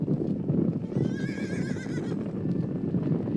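A wild mustang in Nevada lets out a long, quavering whinny over the rumbling thunder of a stampeding herd's hooves pounding the ground.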